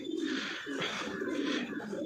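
Tournament pigeons coo continuously close by, a low, throaty, rolling call that swells and repeats without pause and stands alone with no talk.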